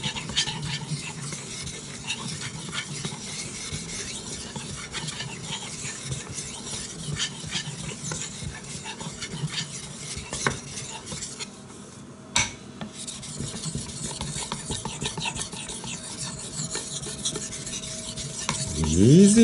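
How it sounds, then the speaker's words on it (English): A hatchet blade is sharpened by hand, a steady continuous rasping stroke running throughout with a brief pause near the end, fairly loud and alone. "This sharpening is very easy."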